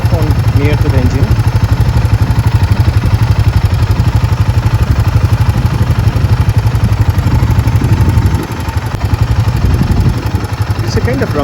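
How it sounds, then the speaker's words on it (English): A Royal Enfield Himalayan 452 engine rumbles close up at a steady idle, a low continuous throb with a slight change near the end. "It's a kind of rumbling sound from the engine that emanates."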